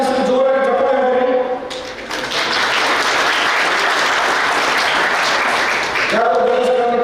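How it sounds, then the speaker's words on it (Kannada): Loud applause from an audience at a youth club award ceremony swells to a dense, sustained roar of clapping for several seconds, then fades as a voice returns near the end. "ಮೇರಿ ಕಾಮ್ ಹೆಸರು ಜೋರಾಗಿ ಚಪ್ಪಾಳೆ ಮಾಡಿ"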